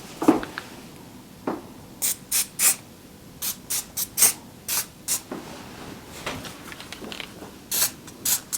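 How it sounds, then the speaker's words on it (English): Short bursts of hairspray hiss over styled hair, about a dozen quick sprays in irregular rhythm, close and fairly loud against quiet handling sounds, with no talking. "I'm just going to do a slight little zhuzh of some hairspray."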